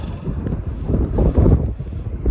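Strong gusting wind blowing across an open wind farm, roaring and buffeting a nearby microphone in uneven surges, loud and close throughout with no other clear sounds; no one speaks.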